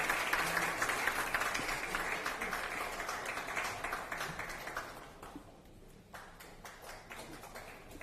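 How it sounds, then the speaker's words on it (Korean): Applause from the crowd at a People Power Party joint vision rally in Daegu–Gyeongbuk, a broad, fairly distant wash of clapping that holds steady for several seconds and then fades into a quieter room murmur with scattered claps. "여러분의 박수로 모시겠습니다."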